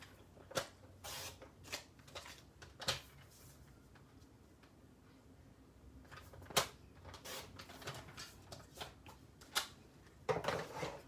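Scissors cut paper card for a craft, giving a string of crisp, irregular snips and rustles, close but soft, clustered at the start, middle and end with quieter gaps between.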